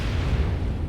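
A missile exploding in MechWarrior 5, a short, heavy, rumbling blast that fills the low end for under a second.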